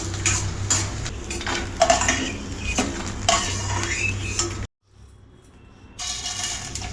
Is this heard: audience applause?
no